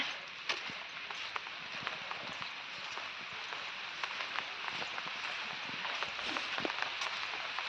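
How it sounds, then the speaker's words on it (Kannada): Rain falling outdoors on a road: a soft, continuous patter with scattered light drips and taps, heard faint and steady throughout without any voices. "ಇವಾಗ ಹೋಗ್ತಾ ಇದ್ದೀನಿ ಮಳೆ ಬರ್ತಾ ಇದೆ"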